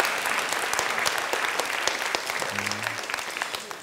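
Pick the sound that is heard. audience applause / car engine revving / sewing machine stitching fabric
audience applause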